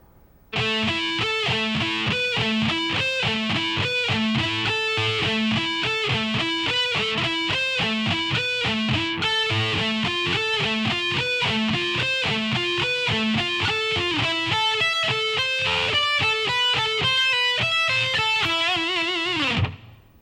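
Distorted electric guitar plays a slow technical shred lick, a steady run of clearly separated picked notes that fills about nineteen seconds at even loudness before stopping abruptly.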